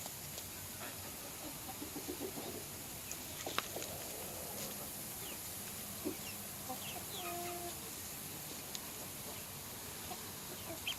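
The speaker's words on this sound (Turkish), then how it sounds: "tavuklarımızı karpuz vereceğiz" Backyard chickens cluck and murmur faintly before a watermelon feeding, scattered short calls from several birds over a steady outdoor hiss, with no talking.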